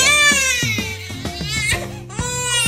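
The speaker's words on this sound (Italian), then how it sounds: "Lei piange perché sente l'acqua." A baby girl cries loudly and continuously during her first shower, her wails rising and breaking in pitch with short breaths between them, close to the listener.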